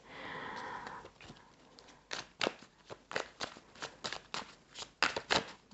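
Cards are riffled and shuffled up close, a soft rustle giving way to a run of crisp snapping flicks, with no talking.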